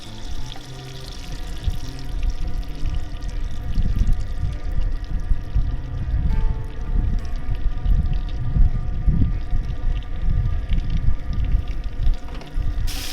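A whole fish fries in hot oil in a pan, giving a steady close sizzle with bubbling crackle that swells and churns continuously, loud and without any talk.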